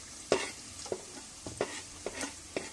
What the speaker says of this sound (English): first I add the green chilies, stir it nicely, allow it to wait, then add the garlic